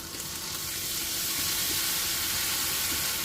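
Red chilli powder, coriander powder and ground masala paste sizzle steadily in hot oil while cooking dal fry and paneer masala, a continuous bright close frying hiss with no talking.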